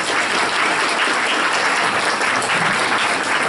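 Steady applause from an audience at a school board of education meeting, a dense wash of clapping hands that holds evenly for several seconds with no pauses.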